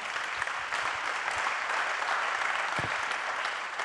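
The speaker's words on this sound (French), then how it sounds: "allez-y, applaudissements si vous le souhaitez." Audience applause at the official launch of The Arch at the ChangeNOW event, a steady, dense wash of many hands clapping at even loudness throughout, with no talk over it.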